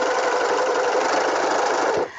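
Overlocker serger running steadily as it stitches a chain tail, a dense mechanical whir with fast needle chatter, close and even, stopping abruptly at the end.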